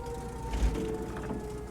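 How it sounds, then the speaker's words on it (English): A siren wails steadily at moderate volume, its tone holding fairly level over low traffic rumble, with no voices. "What's that siren"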